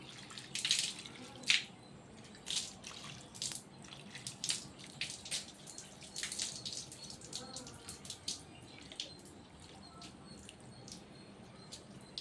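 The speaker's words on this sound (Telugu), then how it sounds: "ఇలా నీళ్ళు పోసుకుంటారు అనుకోండి" Cold water is poured over a person's lower back, giving irregular close splashes and drips that come in bursts, loudest early and thinning out later.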